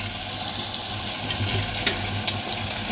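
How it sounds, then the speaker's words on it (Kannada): Water poured into a hot pan of bell pepper curry gives a steady rushing, gushing noise that runs continuously at close range, with no speech. "ಇದಕ್ಕೆ ನೀರು ಹಾಕ್ಕೊಳ್ಳೋಣ."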